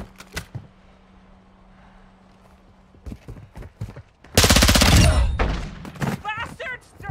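Video game gunfire: a few scattered shots, then a loud sustained burst of rapid automatic fire close up, with someone speaking before and after it.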